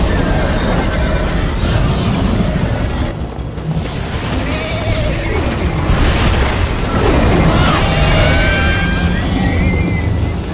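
Loud, chaotic chase scene from Minecraft Story Mode: horses whinny repeatedly over galloping hooves and heavy booming impacts, with everything packed into a dense, sustained roar and no voices.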